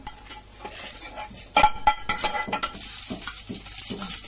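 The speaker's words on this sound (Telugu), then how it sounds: "బాగా వేయించుకోవాలి, నూనెలో వేయించుకోవాలా" Spices for Thanjavur-style mutton curry sizzle and crackle in hot oil close up, with a spoon stirring and scraping against the pan; no one speaks.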